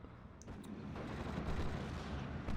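Sustained infantry gunfire from the World War II strategy game Steel Division, a dense, continuous rumble of rifle and machine-gun fire with scattered sharper cracks, heard faintly in the background without speech.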